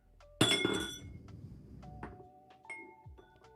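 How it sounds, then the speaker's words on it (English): A drinking glass is nearly knocked over during a rye whiskey tasting, giving a loud sudden clink and rattle, then a few fainter ringing taps as it settles on the table. "Almost broke a glass."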